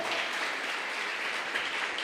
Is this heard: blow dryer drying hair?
no